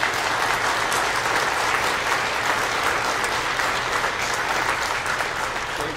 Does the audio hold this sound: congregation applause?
yes